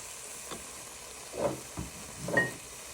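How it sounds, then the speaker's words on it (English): Cream simmers gently in a pan with tomatoes, prawns and noodles over lowered heat, a soft steady sizzle with a few faint stirring scrapes and small bubbling bursts. "Now we've lowered the heat, and you now want to add in a third of cream."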